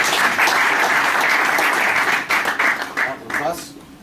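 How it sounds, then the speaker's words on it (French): A burst of applause from a group, dense clapping that tapers off near the end as a voice begins to speak. "Je t'applaudis à César."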